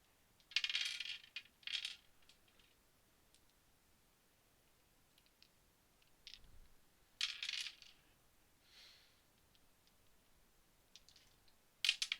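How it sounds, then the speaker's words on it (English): Dice from a Star Wars Destiny: Spark of Hope box dropping and clattering onto a table in a few short scattered bursts with quiet gaps between, fairly faint and with no talking. "dropping stuff, dropping dice."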